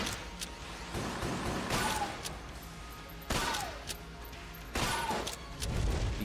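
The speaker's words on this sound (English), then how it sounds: "Oh, we have scatter shots, so we have more explosions." Scatter-shot gunfire and explosions in the video game Enter The Gungeon come as repeated bursts of crackling blasts and rattling impacts, several distinct volleys over steady background game noise.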